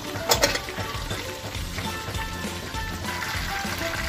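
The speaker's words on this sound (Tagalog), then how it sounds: "Prito na natin yung tilapia natin." Tilapia fries in a pan with a steady, crackling sizzle and a few louder pops early on, continuous and close with no talking.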